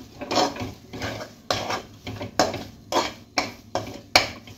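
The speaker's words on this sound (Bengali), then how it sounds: "এটা একটু তাড়াতাড়ি মিশিয়ে নিতে হবে, নাহলে এটা এর সঙ্গে মিশ খাবে না।" Pitha dough is stirred and mixed quickly in a pot, giving a brisk series of about eight evenly spaced scraping, clattering strokes close by, with no voices.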